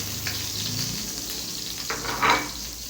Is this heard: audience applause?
no